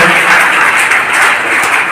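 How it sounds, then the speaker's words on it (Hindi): A crowd at a public event gives loud, dense applause to welcome the Hathua DSP, Rajesh Kumar Manjhi. The clapping blends into one continuous roar with no pause. "हम लोग एक बार स्वागत करेंगे जोरदार तालियों के साथ"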